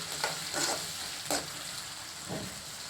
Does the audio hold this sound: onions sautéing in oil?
yes